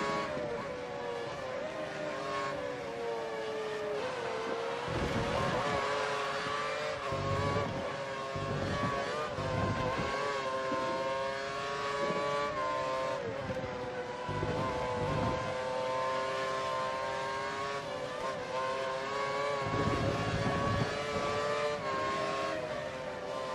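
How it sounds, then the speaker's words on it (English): A race car engine in a racing video game holds a steady droning whine at standard revs from just behind. Harmonic tones shift slightly as it runs, and bursts of rougher noise cut in here and there, with no talking. "Car behind is running standard revs."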